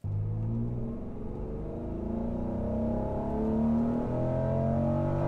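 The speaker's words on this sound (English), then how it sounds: "Let's see the side-by-side replay with and without the resistor" A 320,000-mile Honda NSX engine accelerates from 2,000 RPM, a smooth rising growl with climbing engine tones that build steadily in pitch and loudness over a few seconds.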